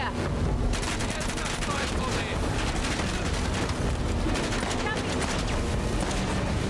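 Dense, continuous gunfire roars from the game Uncharted: The Lost Legacy, rapid shots blending into a loud barrage with voices underneath.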